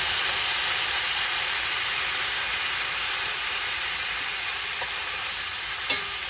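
Chicken sears in a cast iron skillet after a splash of liquid is added, giving a steady, close, even sizzle and hiss with a faint clink near the end.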